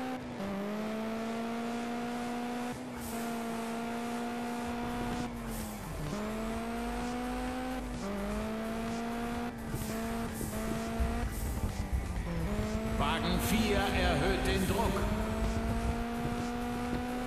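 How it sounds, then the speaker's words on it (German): Race car in Juiced 2 with its engine droning through gear changes, then tires squealing and skidding in a bright scrubbing burst near the end, with a voice speaking over the game sound. "Schön, wenn man weiß, wo der Wagen ins Rutschen kommt."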